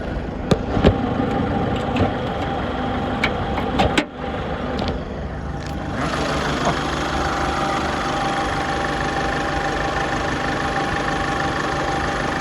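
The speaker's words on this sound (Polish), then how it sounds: "tutaj ten dieselek chodzi bardzo ładnie" A diesel engine of a 2009 Mini Cooper D Clubman idles steadily nearby with the hood open, a continuous low rumble with a few sharp clicks and knocks early on.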